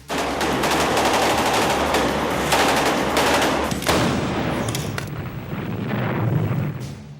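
A 106 mm recoilless rifle fires amid heavy Vietnam War gunfire: a dense, loud wall of rapid automatic shots and booming blasts runs almost unbroken, then eases into scattered cracks and rumble near the end.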